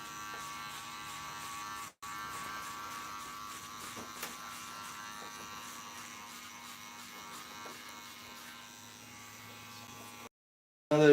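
Cordless Wahl Senior hair clippers running with a steady, faint electric buzz that continues for several seconds, briefly cuts out once, then stops near the end.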